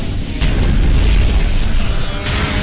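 Units firing in the real-time strategy game Universe At War: Earth Assault, a dense, loud roar of booming blasts and crackling bursts running continuously for a few seconds.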